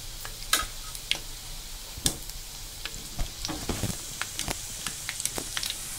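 Carrot pakoda fritters fry in hot oil with a continuous close sizzle, while a spoon stirs them and scrapes the pan in irregular sharp clicks and taps throughout.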